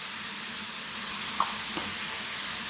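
Radish chutney being mixed with salt in a pan over low heat, a steady soft sizzle and hiss with a couple of faint stirring scrapes of the spoon.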